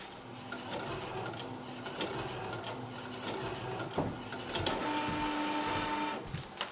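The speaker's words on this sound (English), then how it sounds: "since this old printer is actually capable of printing on DIN A3 and not just on DIN A4, I'd say let's try that one out as well" An old printer that takes DIN A3 paper runs through a print job: a steady mechanical whir with clicks and clunks, then a higher tonal whine from the carriage toward the end, close and continuous with no speech.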